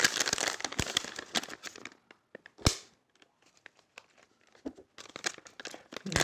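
Plastic MRE chocolate milk pouch with a resealable top being opened and pressed shut, giving bursts of close crinkling and crackling with a few sharp snaps and quieter pauses between.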